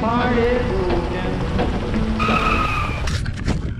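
Disc brakes on a Wilier Cento10PRO carbon road bike squeal and skid in sustained tonal howls that shift pitch, loud and close, followed by a couple of sharp clattering bursts, with background noise throughout.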